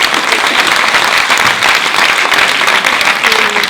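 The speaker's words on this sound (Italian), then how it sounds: "Applauso." A theatre audience claps loudly and continuously at a live comedy show, a thick, even wash of applause filling the whole stretch.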